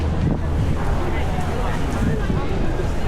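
Wind buffets the microphone in Venice's flooded Piazza San Marco, a steady, loud, broadband rush that lasts the whole moment, with faint voices mixed in.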